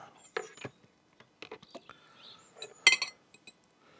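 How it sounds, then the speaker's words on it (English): A knife slicing Brussels sprouts on a board gives sparse, quiet clicks and crisp cuts in a few small clusters, with near silence between them. "Trying to cut these so they don't stick to the knife."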